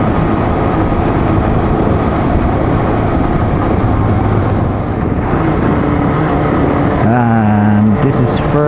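A Kawasaki Z400J motorcycle engine drones loudly during a test ride in third gear, a continuous rumble with wind noise, and a rising pitch sweep near the end.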